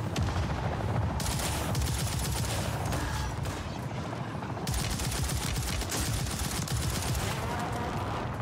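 Dense, continuous automatic gunfire from the Zombie Royale video game, loud rapid bursts of shots layered over one another with no pause, and no talking.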